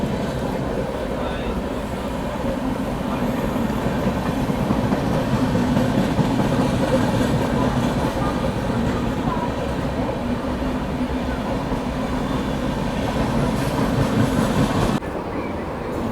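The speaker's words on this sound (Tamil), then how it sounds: "சிம்ஹாபுரி எக்ஸ்பிரஸ் கிளம்பிருச்சுங்க." The Simhapuri Express train pulls out with a loud, steady rumble and rolling wheel noise for the whole stretch, heard from close by, with some voice faint beneath it.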